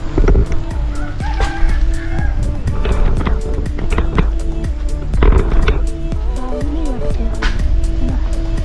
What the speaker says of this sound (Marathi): गाडी आली कोणाची तरी.